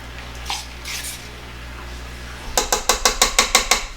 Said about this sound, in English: take my peanut butter and put it in to my mixer here